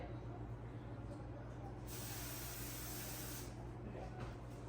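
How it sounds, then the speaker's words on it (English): A steady hiss from a spray can lasts about a second and a half, then stops, over a low background hum. "Did I spray good?"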